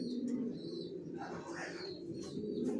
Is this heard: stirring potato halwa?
no